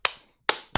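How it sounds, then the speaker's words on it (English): Three sharp hand claps made in front of the face, close and loud: one, then a pause of almost half a second, then two more in quicker succession, each with a short ringing decay. "2 claps in front of the face means she also likes it."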